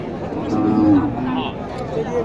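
A cow lowing at a busy cattle market in Naogaon's Kolahat, Bangladesh, one drawn-out moo rising and falling near at hand against background murmur.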